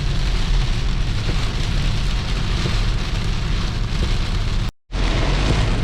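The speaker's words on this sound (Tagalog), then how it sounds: "Grabe jud ka kusog ang ulan." Heavy rain pounds steadily with strong wind during a road trip in the Philippines, a loud dense roar with a brief dropout near the end before it resumes.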